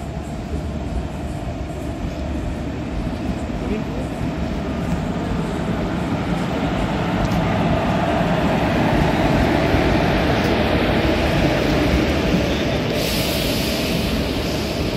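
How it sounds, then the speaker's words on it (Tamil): A Tirunelveli–Mettupalayam special fare express train arrives, a loud continuous rumble of rolling wagons that swells slightly toward the middle, with a brief high hiss near the end. "நம்ம Mettupalayam special fair express arrive ஆச்சுங்க"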